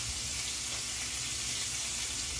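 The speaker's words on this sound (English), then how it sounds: "See there, it's frying so good." Food frying in a pan in a home kitchen, a steady broadband sizzle that holds evenly throughout at close range, with no talk over it.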